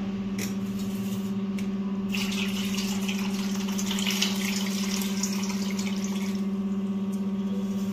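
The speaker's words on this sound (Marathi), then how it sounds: "हे पाणी काढून घेऊ आपण" Water poured off washed soybean chunks, a steady running and splashing stream that holds without a break and swells a little midway, with a constant hum underneath.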